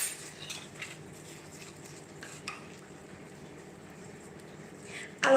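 Cornflakes being stirred into cookie dough made from a premix: quiet, irregular scraping and light clinks of a utensil against a bowl, with a louder knock at the end.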